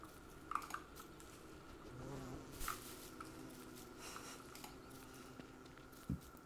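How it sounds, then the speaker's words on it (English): A bee buzzes faintly around a flower outdoors, a quiet hovering hum with a few soft taps and rustles nearby. "That was an impeccably friendly bee."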